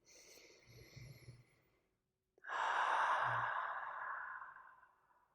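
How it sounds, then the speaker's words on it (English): Someone draws a quiet, soft breath in, pauses in near silence, then lets out a long, deep, airy exhale that slowly fades. "One more breath here."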